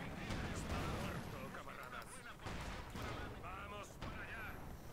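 Machine gun fire and explosions in the Company of Heroes 2 Soviet campaign castle battle, dense continuous rattling and booms under game noise, with someone talking over it.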